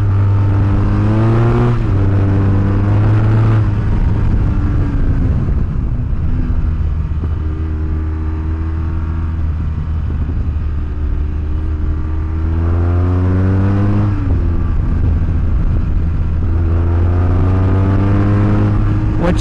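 A BMW R1200GS motorcycle fitted with a Remus exhaust pipe, accelerating in repeated pulls with a deep rising engine note, close and loud, easing off between the surges and heard without talk.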